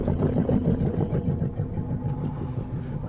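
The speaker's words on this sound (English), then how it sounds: "The engine on this thing purrs," A steady low engine idle rumbles throughout, even and moderately loud, with a faint higher hum layered over it and no speech.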